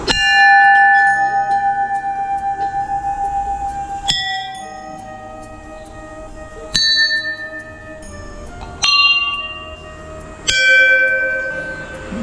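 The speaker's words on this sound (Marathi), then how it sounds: "इथं 5 घंटे आहेत तर 5ही घंट्याचा वेगळा आवाज येतोय" Five temple bells struck one after another, each ringing out with its own pitch and a long shimmering decay before the next strike, the first one tolling in a quick repeated run.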